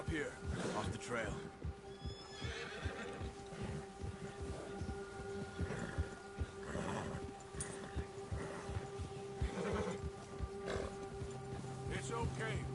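Horses whinny and snort amid hoofbeats and a busy Red Dead Redemption 2 game soundscape, with voices talking over it.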